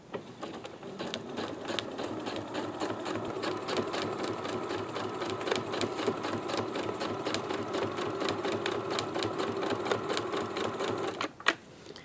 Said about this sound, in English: I'm going to stitch right on the edge of it